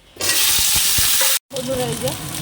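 Chicken pieces with dried chili frying in a pan, a loud, steady sizzle that bursts in after a quiet start, breaks off for a moment, then returns slightly softer.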